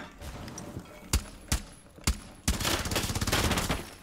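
Rainbow Six Siege P90 gunfire: a few separate sharp shots, then a rapid sustained burst of automatic fire, close and loud.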